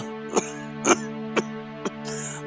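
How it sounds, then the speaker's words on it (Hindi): A man coughs four times in quick, evenly spaced, short bursts over a steady background hum. "पहले खांसना तो बंद करो।"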